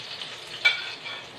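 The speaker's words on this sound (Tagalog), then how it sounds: "Tapos igigisa natin yung mga sangkap. Tapos yung bawang." Garlic and ginger sauté in a pan for Filipino chicken-feet lugaw, a brief soft sizzle with a single sharper stir or scrape midway.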